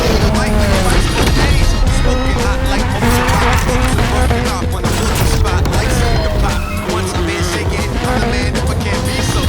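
Loud, dense racing action from Travis Pastrana's 862bhp Subaru Huckster rally car, with revving engine, tire squeal and a crash playing continuously at high volume throughout, with no talk.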